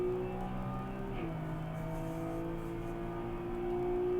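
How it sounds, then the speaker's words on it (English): A Porsche 911 GT3 RS of the 992 generation runs on the Nurburgring, its engine droning steadily from inside the car with a shift partway through and a rising whine, fairly faint and without talk. "It's the Porsche 911 GT3RS. I believe it's a 992."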